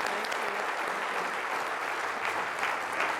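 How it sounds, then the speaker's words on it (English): Steady audience applause for a panel of city mayors at a climate conference, a dense even wash of many hands clapping at close range, continuous throughout with no talk over it. "please join me in a big round of applause for our panel"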